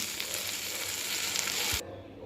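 Eggplant fries in a pan with a steady, close, continuous sizzle that cuts off abruptly near the end as the heat goes off, leaving faint room noise; no one speaks.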